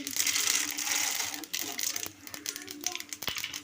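Mustard seeds spluttering in hot oil while making semiya upma, a dense crackle of rapid pops and sizzle that thins into scattered sharper pops, with a voice talking over it.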